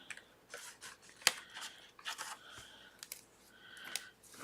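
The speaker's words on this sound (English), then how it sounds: "I'm just going to cut some tape and put it on." Scissors cut through tape for a hexagon gift box, a quiet sequence of short snipping and crinkling strokes heard close, with brief pauses between cuts.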